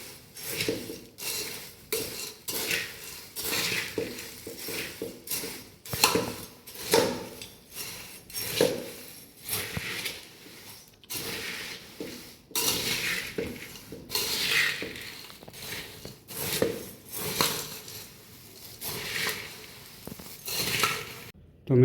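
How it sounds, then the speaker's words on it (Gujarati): Puffed rice with fried peanuts and sev being mixed in a bowl: repeated rustling, scraping strokes of a spoon with occasional light clinks, steady and fairly close. "હવે એને સરસ મજાનું હલાવી દઈશું, સરસ મિશ્રણ કરી દઈશું."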